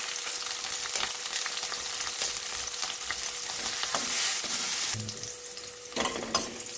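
Chopped green chilies fry in coconut oil as they are stirred, giving a dense continuous sizzle with occasional scraping strokes and a louder clatter toward the end.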